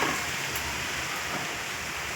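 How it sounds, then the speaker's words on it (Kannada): Light drizzle falls amid strong gusting wind, a steady dense hiss throughout with no voices. "ಸಣ್ಣಗೆ ಗಿಟಿ ಗಿಟಿ ಮಳೆ ಅಂತೀವಲ್ಲ ಆ ರೀತಿ ಬರ್ತಾ ಇದೆ"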